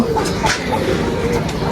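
Pigeons coo in low, soft rolling calls close by at a pigeon house, a steady murmur with a little background noise.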